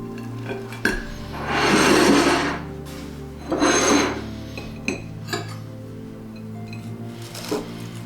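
A knife saws into a freshly baked, steaming drop biscuit, making two longer rasping cuts followed by a few light clicks and scrapes of the blade against the plate, close and without any speech.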